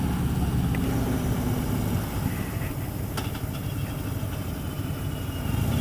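A 2016 Harley-Davidson Road Glide motorcycle engine under light throttle while riding: a steady, loud low rumble with a constant wind-blown roar that rises slightly toward the end.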